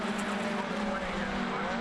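MG Trophy race cars circuit racing at Brands Hatch, a steady engine roar with a low droning tone running throughout, loud and continuous as the pack of cars runs through the Druids bend.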